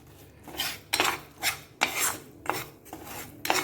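A spoon repeatedly scrapes a ground custard-apple mixture from a metal mixer jar onto a plate, producing quiet rasping strokes and light clinks in an irregular rhythm, with no voices.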